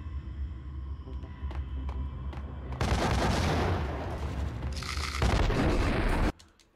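Heavy booming blasts of grenades going off in the Max Payne shooter game, a loud sustained rumbling burst followed by a second surge before cutting off, with no talking.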